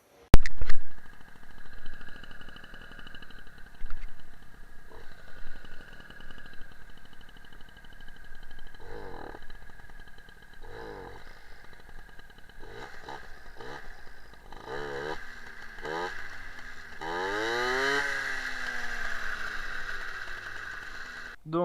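A running MBK 51 Magnum moped engine fitted with a PHBG 15 carburetor and Doppler intake pipe, running lean at idle, with rising and falling revs and a rev-up near the end. The engine is fairly close and heard alone without talk.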